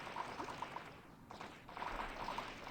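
Water sloshes and pours as a player swims through an ocean in Minecraft with the Physics Mod, a soft, steady liquid wash with faint burbling at low volume.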